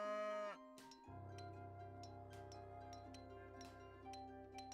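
Cattle in an Age of Empires 3 match let out a drawn-out moo, followed by a lower sustained bovine drone and scattered light clinking game effects, all fairly faint.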